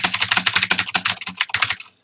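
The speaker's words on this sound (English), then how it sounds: "Now I'm typing with my left hand because these fingers hurt." Typing on a Cherry G80 3000 mechanical keyboard, close and loud, with a rapid clatter of sharp keystrokes that stops abruptly at the end.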